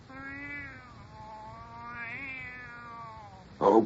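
A cat gives a drawn-out, wavering meow in a radio horror drama, rising and falling over several seconds, then ends with a short loud burst.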